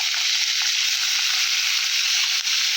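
Morola fish frying lightly in a pan, a steady close sizzle with soft crackles, no talking.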